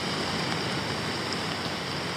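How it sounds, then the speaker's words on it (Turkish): Steady, gentle rainfall hissing evenly, a soft continuous wash of drops with no other sounds standing out. "Allah'tan yağmur öyle rüzgarlı bir şekilde yağmıyor. Sakin yağıyor."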